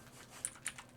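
Faint keystrokes on a computer keyboard, a few separate taps spaced a fraction of a second apart against a quiet background.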